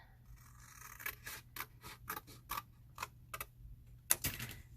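Scissors cut a paper craft box along its score line, a quick run of crisp, close snips and small papery scrapes, about a dozen in an uneven rhythm.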